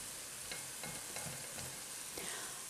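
Garlic sizzles and fries in a pot with a steady hiss, and occasional stirring scrapes come through every half second or so.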